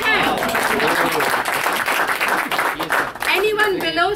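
Audience applause at an alumni gathering, a dense sustained wash of clapping across the whole stretch, loud and steady, with voices and cheering mixed in throughout.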